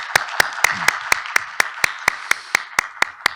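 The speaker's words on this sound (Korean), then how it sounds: "우리 이광섭 총장님께 다시 한번 큰 박수로 감사를 표시했으면 좋겠습니다" Slow, evenly spaced claps ring out at an association's general assembly meeting, about fourteen sharp beats in a steady rhythm, sounding like a single pair of hands or a tight rhythmic group rather than a full ovation.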